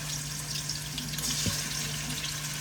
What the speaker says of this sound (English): we're going to go ahead with the drumsticks first and just get them into the skillet like so